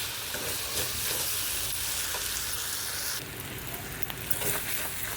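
Mutton sautéing with meat masala in a pan, a steady close sizzle and frying crackle with occasional stirring scrapes, continuous throughout with no talk.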